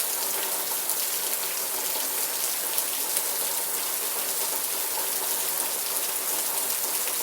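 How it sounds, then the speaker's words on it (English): Continuous outdoor rainfall forms a steady, even wash of patter and hiss with no voices. "Look at this beautiful rain out here."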